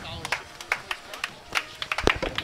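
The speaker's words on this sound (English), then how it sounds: "thank you all for giving me a round of applause" Scattered hand claps from a small audience at a bowling tournament for the first-place major winner, sparse and uneven, with chatter and lane noise behind.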